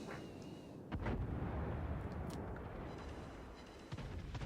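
Heavy naval guns boom during a World of Warships battle aboard the Montana battleship, with a loud blast near the first second, rumbling continuous battle noise, and a smaller report near the end.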